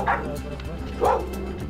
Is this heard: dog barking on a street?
yes